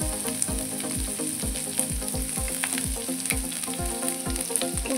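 Mixed vegetables for tawa pulao, including onion, capsicum, cabbage and carrot, sizzle loudly on a tawa, a constant bright hiss broken by regular rhythmic scraping knocks of a spatula, close and without talk.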